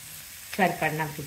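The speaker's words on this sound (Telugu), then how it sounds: "ఒకసారి ఇలా వేయించేసి కొంచెం ఉప్పు వేసి మగ్గబెట్టేసుకున్నాం" Ripe pumpkin pieces fry in a pan for a sweet pumpkin curry, with a close, steady sizzle and a couple of brief stirring sounds.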